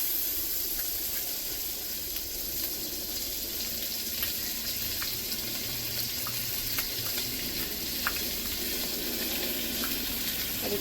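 Butter melting in a hot wok gives a steady, close hissing sizzle that runs throughout at an even level, with faint crackles scattered across it.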